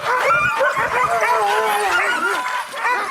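Siberian huskies at a lakeside sled-dog yard yelp, bark and whimper in overlapping rising cries, a dense excited chorus close by.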